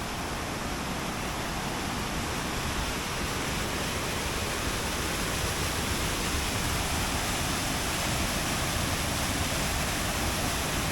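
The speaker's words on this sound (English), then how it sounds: "that waterfall is pretty big and it continues over here" A big Alpine waterfall near Formarinsee in the Austrian Alps roars as a loud, steady broadband rush, close by and constant throughout with no voices.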